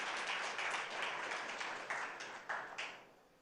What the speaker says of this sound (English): I think he needs a loud round of applause.